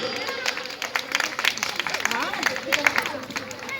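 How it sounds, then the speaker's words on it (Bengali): Audience clapping and applause at a Bengali dance drama performance of Chandalika, a dense patter of many hands rising and falling in waves over a busy hall, with a voice speaking over it. "আরেকটু জোরে হাততালি"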